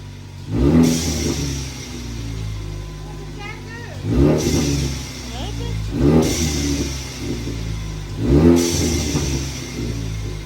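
A 2018 Ford Mustang EcoBoost with a bypass valve adapter is revved in four sharp bursts spaced a couple of seconds apart, each a quick rising roar that falls back to a steady rumbling idle.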